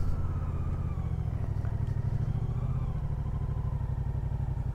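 A 2024 Moto Guzzi Stelvio pulls hard in second gear, its engine droning steadily and close with a rough, throbbing pulse throughout, no voices on top.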